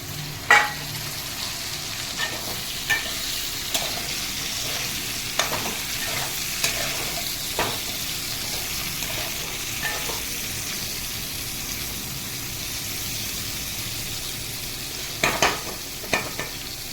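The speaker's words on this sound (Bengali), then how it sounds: "ক্যাপসিকামটা হালকা হালকা হয়ে গেছে ভাজা" Capsicum and carrot fry in a pan with a low steady sizzle, broken by sharp scraping clicks of a utensil stirring at irregular intervals, with no talking.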